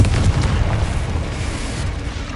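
A Confringo spell explodes in Hogwarts Legacy, giving a heavy booming blast with rumbling that fades gradually over a couple of seconds and stays loud and close.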